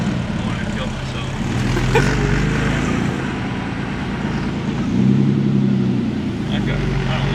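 Big-turbo Infiniti G37 cruising on the freeway with the windows down, a loud continuous engine drone and wind roar that swells twice, with people talking inside the car over it.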